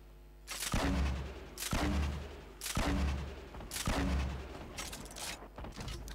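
Crossbow shots ring out in a Fortnite battle royale match, four or five sharp, booming releases spaced about a second apart, each followed by a short rumbling tail, with no talk over them.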